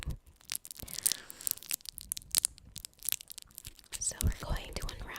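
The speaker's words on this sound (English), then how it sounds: "the sounds of the candy wrapper being unwrapped" Crinkly plastic of a hard candy wrapper being unwrapped close to the microphone, with sharp rustling bursts scattered throughout and soft whispering in between.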